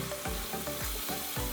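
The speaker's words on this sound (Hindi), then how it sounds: "इसको अच्छी तरीके से मैं भुनाई कर लेती हूँ 1-2 मिनट के लिए" Spices and chopped tomatoes with ginger sizzle as they fry in a pan for mator palau, a dense close hiss broken by regular stirring scrapes roughly every half second.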